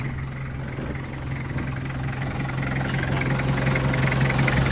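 A car engine idles steadily at close range, a smooth, even hum with a low drone throughout and no talking.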